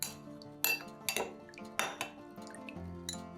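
A spoon clinks and scrapes against a bowl in several quick, light strokes while stirring a liquid cake-soaking mixture, close and fairly quiet.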